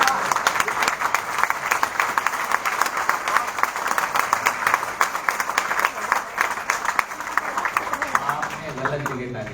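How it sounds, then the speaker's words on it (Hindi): An audience at a Hindi poetry recital in Chennai claps continuously for several seconds. The applause is loud, close and crisp, with a speaker's voice heard over it. "गलत जगह तालियां"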